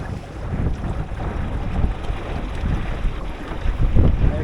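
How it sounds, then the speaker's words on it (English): A Drascombe Lugger sailboat runs through waves in gusty wind, with a continuous rush of water and buffeting wind noise swelling as a big wave hits, close and loud throughout. "Oh, that's a big wave."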